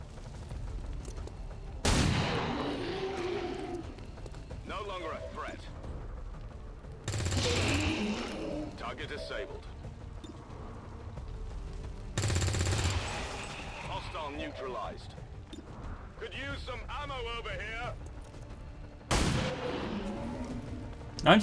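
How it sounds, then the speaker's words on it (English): Rifle and pistol shots in XCOM 2 ring out as four loud, sharp bursts spaced several seconds apart, with someone talking and quieter game sounds in between. "just varying between shooting the rifle and shooting the pistol"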